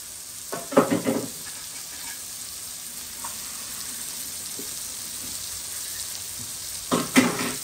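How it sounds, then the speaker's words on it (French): Water poured into a hot pan of tomatoes to deglaze, a steady hissing sizzle throughout with louder bursts of bubbling and clatter near the start and end, close by and without talk. "mettez un petit peu de l'eau pour déglacer"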